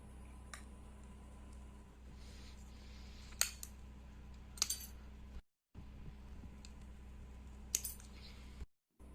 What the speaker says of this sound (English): Next, we cut the aluminium along the markings.